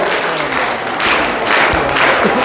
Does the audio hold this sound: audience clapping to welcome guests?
yes